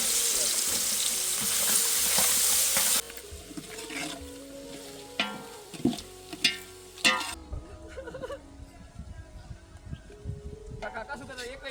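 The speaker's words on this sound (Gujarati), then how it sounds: "તો મિત્રો સૌથી પહેલા નાખી દઈશું આપણે ઝીણી કટિંગ કરેલી ડુંગળી." Finely chopped dry onion drops into hot oil with cardamom and asafoetida in a village kitchen, a loud, steady sizzling hiss for several seconds, then quieter clinks and stirring under intermittent talking.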